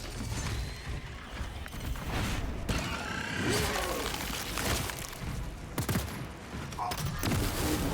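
In Space Marine, a las fusil fires repeated volleys amid mechanical clanks and energy whines, sharp cracks that arrive in irregular bursts over a busy, layered battle din.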